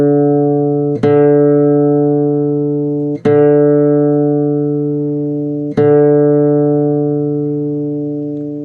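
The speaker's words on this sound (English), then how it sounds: "keep tuning, keep twanging the string because the tuner can hear it" A guitar string is plucked three times while tuning. Each pluck rings out clearly and decays slowly before the next one, with no talk over it.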